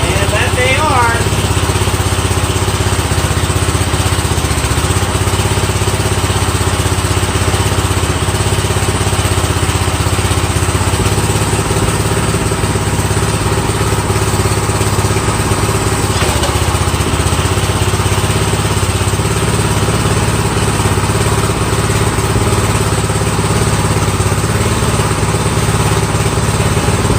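Vintage Springfield tiller repowered with a Harbor Freight 212cc engine, running continuously and loud up close, the engine drone steady with slight shifts as the tines turn.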